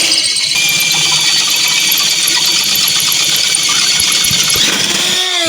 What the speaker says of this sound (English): we'll drill these out